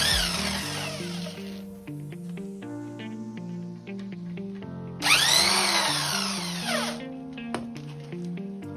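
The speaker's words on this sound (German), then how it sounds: "Damit es schneller geht, kommt jetzt der Schrauber zum Einsatz." A power screwdriver whirs against bolts on the rear axle of a Mercedes W124, with tonal motor notes rising and falling through repeated runs, a sharp louder burst midway, and clicks between pulls, close and with no talk.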